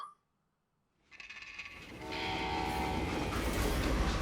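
Train in the Western video game Call of Juarez Gunslinger: after a second of silence, a rumbling train rises and swells into a loud, sustained roar with a tonal horn-like whine, with no talking.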